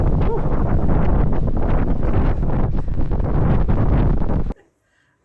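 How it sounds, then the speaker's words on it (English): Strong wind buffets the microphone at the Katoomba lookout, a loud, roaring rumble with gusty surges that cuts off abruptly near the end. "Just a tad windy."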